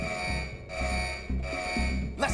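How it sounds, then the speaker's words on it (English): An alarm in an animated show sounds in repeated electronic pulses, steady tones cutting on and off about every half second over low background sound, ending with a short rising burst. "The alarms put the whole place on lockdown."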